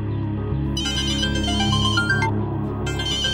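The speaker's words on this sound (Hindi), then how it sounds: "रोशनी का फोन" A mobile phone rings with a melodic ringtone: bright repeating electronic notes played loud and close over a low background music bed, with no voices.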